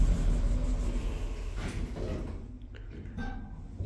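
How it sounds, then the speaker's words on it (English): Doors of a 2000 custom lift at Nuneaton station's Platform 1 slide shut with a steady mechanical rumble that fades, followed by a faint click and quiet hum. "Doors closing."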